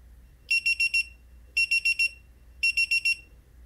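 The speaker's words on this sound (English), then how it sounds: "The Pixoo does have a small speaker which will beep when the timer expires." A Divoom Pixoo 64 LED pixel display beeps from its small built-in speaker as its countdown timer expires: three clear bursts of four quick high beeps, evenly spaced, in a quiet room.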